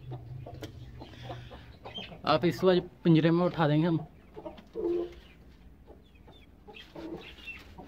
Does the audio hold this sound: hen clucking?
yes